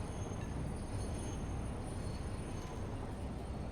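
A freight train in the video game Satisfactory rumbling as it arrives, a steady low roar of wheels on rails with faint metallic squeal, continuous and moderately loud with no talk.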